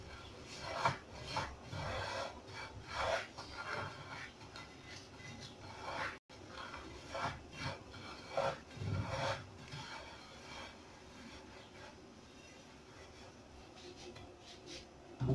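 Moroccan couscous grains being rubbed with oil by hand in a bowl: a steady, soft, grainy rubbing and rasping in repeated strokes, close and fairly quiet, with no voices.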